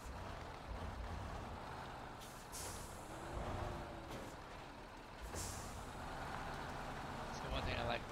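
A K700 truck rumbles through the Mudrunner game with a low continuous engine drone, broken by sharp air-brake hisses and a few clanks, while someone talks over it.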